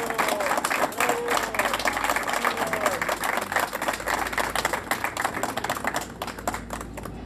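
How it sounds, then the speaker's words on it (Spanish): Lively crowd applause at an outdoor neighborhood street-paving inauguration, many rapid overlapping claps sustained steadily, thinning slightly near the end, with a faint voice briefly audible early on. "Que se escuche fuerte el aplauso para la señora María Alejandra Aguirre Luna"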